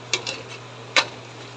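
Shrimp cooking in a pan with greens to follow, stirred with a utensil that gives a few short scraping clinks over a faint steady hum and light sizzle, close and without talk.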